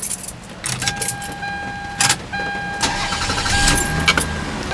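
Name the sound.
car engine starting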